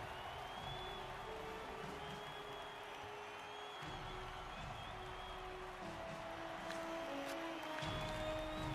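Blood Bowl fantasy football match crowd cheering and applauding in a steady wash of noise, moderately loud throughout, with sustained musical tones layered over it.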